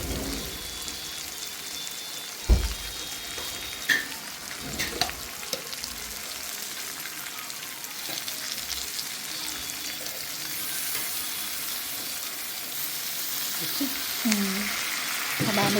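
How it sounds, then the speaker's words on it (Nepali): Ginger garlic paste frying in a pan with onions gives a steady, close sizzle, broken by a few sharp clatters of stirring, with no one talking over it. "अब हामी यसमा चाहिँ अदुवा लसुनको पेस्ट हाल्छौँ"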